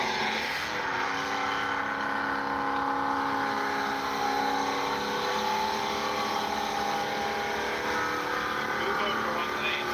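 Two muscle cars, a Dodge Hellcat and a 5th gen, roar with loud sustained engine tones and harmonic whine for the whole stretch, alone without talk.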